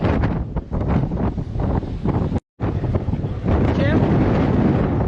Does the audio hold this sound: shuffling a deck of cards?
no